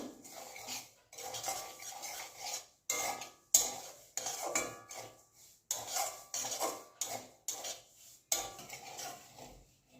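Rice semolina is stirred with a spatula while it lightly toasts in a warm pan. Close scraping strokes come in regular bursts separated by short pauses, with no talk.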